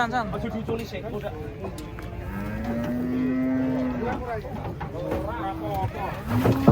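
A cow moos repeatedly as it is unloaded from a truck, its long low calls rising over steady background chatter of people talking nearby.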